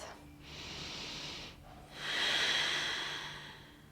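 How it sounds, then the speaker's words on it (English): Two long breaths during a relaxing yoga stretch, a steady breathy exhale followed by a louder, fuller one, close and alone with no talking. "Take a breath."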